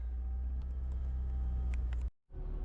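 A semi-truck's diesel engine idles nearby with a loud, steady low rumble, joined by faint high ticks, then drops out briefly near the end before the rumble returns.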